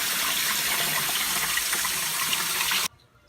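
Tap water gushes steadily over cut pieces of meat being rinsed for menudo in a kitchen sink, a loud continuous wash that stops abruptly near the end.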